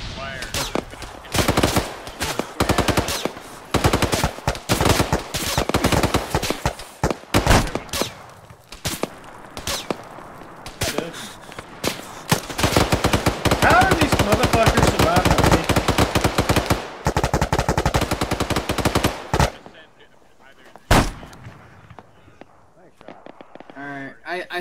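Rapid machine-gun bursts and single gunshots from an Arma military video game crackle nearly continuously for about twenty seconds, close and loud, before thinning to a lone shot and quieter background, with players talking over it.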